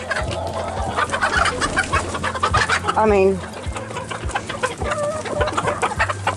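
Close chickens cluck and chatter in a busy, uneven stream, with one louder drawn-out squawk in the middle, while a person speaks briefly over them.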